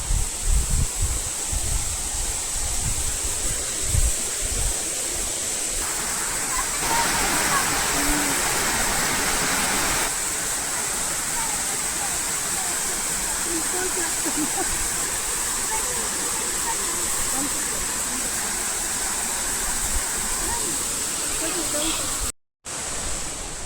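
Hanumana Gundi waterfall at Kudremukh pouring with a steady, close, broadband roar of falling water, constant throughout with no voices, and a brief dropout near the end; summer flow is somewhat reduced.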